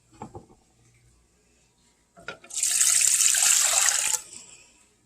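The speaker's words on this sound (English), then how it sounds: "we're going to add 2 cups of water." Water pours into a pot of melted butter on the stove, a loud steady hissing gush that lasts about two seconds after a few faint clinks, then tails off.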